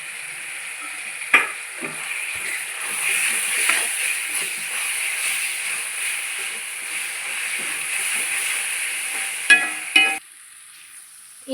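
Ginger garlic paste sautéing with crushed small onions in hot oil for restaurant-style chicken biryani, a steady close sizzle and hiss with a few brief scrapes of stirring, ending abruptly near the close.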